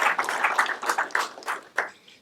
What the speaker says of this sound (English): Can we give Jose, right, a big round of applause?